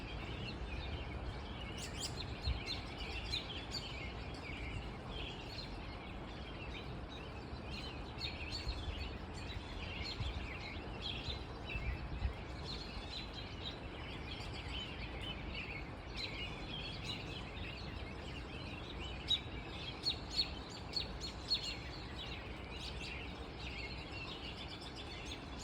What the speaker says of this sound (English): It's a after the rain bird break.